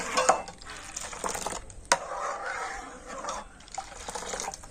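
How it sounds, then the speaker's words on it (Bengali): Powdered milk mixed with water stirred in a cooking pot, quiet liquid swishing with soft scrapes and a sharp clink of the spoon against the metal. "এবার আমি এইভাবে কন্টিনিউ নাড়াচাড়া করব আর জাল দিয়ে দুধটাকে একটুখানি ফুটিয়ে নেব"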